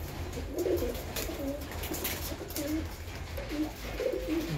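Domestic pigeons coo in soft, repeated low phrases at close range, several calls rising over a constant background hum with no talking.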